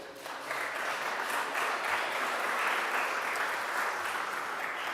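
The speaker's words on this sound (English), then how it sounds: "So we can applaud them, by the way." Audience at a chess and business strategy conference breaking into sustained applause, a dense, even wash of many hands clapping for about five seconds, heard from within the room.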